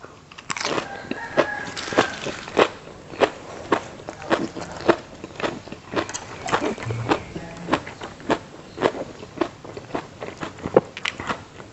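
Someone eats a crunchy, spicy enoki mushroom salad, with repeated close, crisp bites and chewing crunches in an uneven rhythm and no talking.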